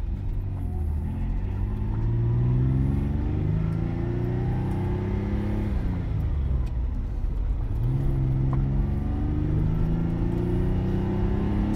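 A Dino 246 GTS sports car drives on dry, cold, salty roads with its engine humming steadily close by, and the pitch rises and falls as it shifts through gears, with no voices.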